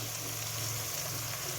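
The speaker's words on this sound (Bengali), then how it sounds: "এটাকে ভালো করে নাড়াচাড়া করে নিচ্ছি" Chicken curry sizzles steadily in a pan on a wood stove as it is stirred, a continuous close frying hiss that ends in a brief louder scrape.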